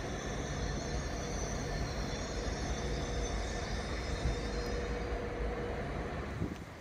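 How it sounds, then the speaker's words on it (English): A Class 323 electric train rolling into Manchester Piccadilly station, a steady low rumble of wheels and motors with faint squeals and tonal whines, moderately distant and continuous with no talk. "And I believe there is also another 323 coming in now."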